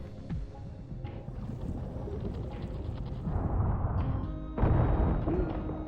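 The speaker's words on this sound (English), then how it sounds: "Are we starting like an underwater engine?" Underwater boat engine in the video game Dave the Diver, a steady rumbling churn that grows louder and denser partway through, with bubbling water texture and no talk.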